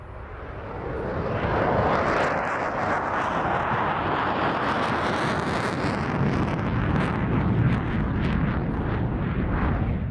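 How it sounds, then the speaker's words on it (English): An F-16C Fighting Falcon fighter jet at an air show display roars loudly and steadily, a broad rushing jet noise that swells in the first two seconds and holds strong throughout with wind buffeting. "now we proudly present you the F-16 Fighting Falcon"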